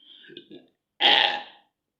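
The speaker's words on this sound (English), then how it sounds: "I burped." A single loud, close burp from a girl, following a short bit of quiet vocal sound.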